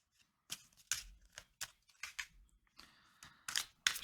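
A deck of tarot cards being shuffled by hand during a reading, giving brisk papery riffles and slaps in short irregular bursts, close and fairly quiet, with no talk.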